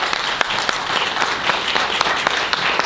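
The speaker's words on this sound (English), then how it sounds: "Please, a round of applause for Scott Adams from Free Play" Audience applause welcoming a speaker at the Free Play Florida 2017 gaming convention, a dense patter of clapping with a few sharper individual claps standing out.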